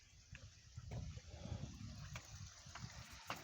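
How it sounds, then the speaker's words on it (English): Small brook running down into a river beside a trail, a quiet, faint gurgle and trickle of flowing water with soft splashing, heard from a short distance. "There's a little brook running down to the river."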